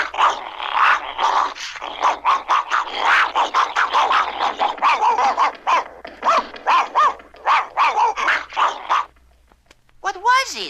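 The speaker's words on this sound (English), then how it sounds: "They got a terrible, vivacious dog guarding her" A cartoon dog guarding a tower barks and growls fiercely in rapid, loud bursts, mostly continuous, then breaks briefly before a final rising yelp.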